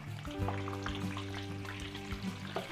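Steady crackling sizzle of food frying in hot oil, continuous and close, with a low hum underneath and no talking.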